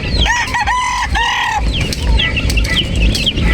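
Bourbon Red turkeys and other fowl at a shipping stop, loud close clucking and squawking calls with repeated rising cries, continuous across the clip.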